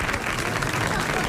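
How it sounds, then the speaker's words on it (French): Studio audience applause on a French television quiz show, a dense, loud burst of many hands clapping, with crowd noise mixed in and no clear speech. "et tout de suite vos applaudissements"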